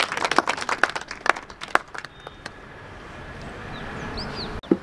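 Scattered handclaps from an audience at a poets' conference and book launch in Himachal: a few sharp, uneven claps that thin out after two seconds into a quiet room hum.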